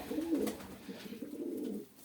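Tumbler pigeons coo close by, two soft, low throaty calls, the first brief and the second longer and rolling, with no talk over them.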